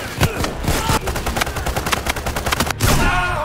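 Rapid gunfire from weapons in the heist shooter Payday 3, a dense run of loud close shots and bursts for several seconds with brief gaps, ending in a heavier blast near the end.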